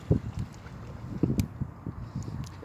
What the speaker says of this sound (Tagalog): dito tayo sa dagat.